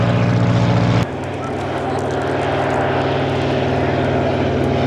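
A light propeller aircraft at the Woodchurch 2005 airshow drones steadily overhead while flying as slowly as it can, a constant loud engine hum after a brief louder start, with no talk.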